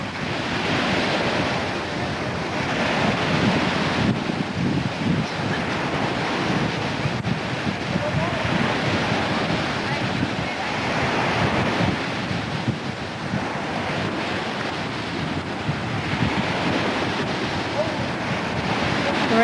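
Ocean surf at a Corpus Christi beach rolls in with repeated crashing, hissing waves under gusty wind buffeting the microphone, steady and close throughout, with faint voices now and then.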